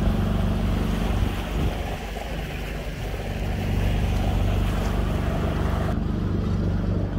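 A sailboat motors under engine through a channel between small islands, with a steady low engine drone alongside wind rush and water noise, constant and close throughout.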